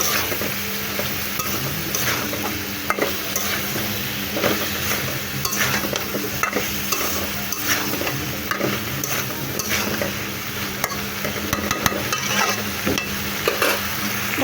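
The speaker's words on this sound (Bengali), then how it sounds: "লতিটা একদম দিয়ে এখন আমি ভালো করে কষিয়ে নেব।" Taro stolons are stir-fried in a pan for a curry that will later get new-season mango, with a continuous close sizzle and frequent scraping and clinking of a spatula as the pieces are tossed.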